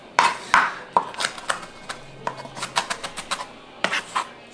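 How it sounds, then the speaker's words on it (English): Knife chopping onions into big chunks for burritos, a series of sharp, close taps on a cutting board in irregular bursts, some clustered quickly together with brief pauses between. "Choppity onions, choppity onions, choppity onions, choppity onions"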